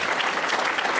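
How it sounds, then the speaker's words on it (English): Dense, steady applause from an audience at a political event, loud and continuous with no gaps over a short stretch. "That's worth a round of applause"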